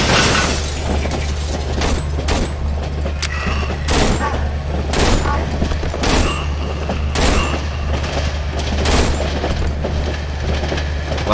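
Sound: gunfire from a three-round burst weapon in the video game Cry of Fear

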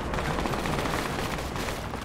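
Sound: gunfire from a video game

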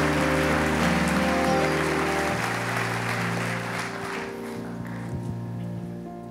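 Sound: audience applause for speaker at memorial

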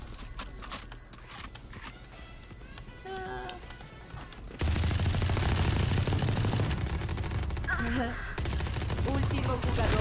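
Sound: gunfire, video game

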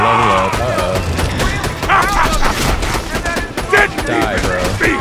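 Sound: gunfire in a video game

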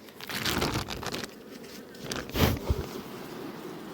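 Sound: honey bees buzzing at a beehive

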